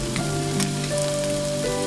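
Diced capsicum and tomato frying in a pan, a steady close sizzle with faint stirring scrapes, alone with no talk.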